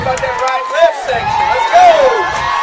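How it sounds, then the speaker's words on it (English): A crowd cheers and whoops through the stands at a Walnut vs Alcorn Central high school homecoming football game, a steady roar with rising shouts and a stadium announcer's voice over it. "Stadium announcer calling for fired up, and the crowd's getting into this one"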